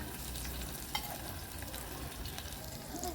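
Onions frying in oil in a pan for coconut rice, a steady close crackling sizzle with occasional stirring scrapes, no voices.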